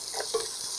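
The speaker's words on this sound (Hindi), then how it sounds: "Onion, add the onion." Chopped onion drops into a hot tempering of oil and hing, giving a steady bright sizzle with a brief stirring clatter, close up and without talk.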